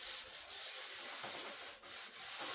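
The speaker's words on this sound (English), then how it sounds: "To take a hand palm sander here, got very fine sandpaper in that, and then hit that over the top of that as well." A hand palm sander fitted with very fine sandpaper smooths a surface on a model train setup, giving a steady soft rasping hiss with a few brief breaks in the scrubbing, fairly quiet and alone.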